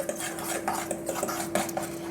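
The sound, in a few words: stirring egg into ground almonds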